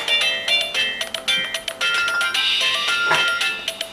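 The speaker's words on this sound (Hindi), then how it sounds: "तेरे काम का फोन है बेटे।" A phone ringtone plays a bright, repeating electronic melody in a domestic drama scene, steady and clear with no talking over it.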